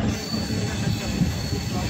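Steady rumble of a moving train with a faint high whine from the wheels, continuous and close, under a low murmur.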